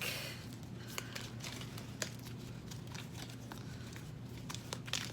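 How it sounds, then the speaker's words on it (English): A deck of playing cards being shuffled by hand, heard as faint, scattered crisp flicks and riffling clicks over a low, steady room hum, with no talking. "Let's try shuffling this again without dropping half the deck."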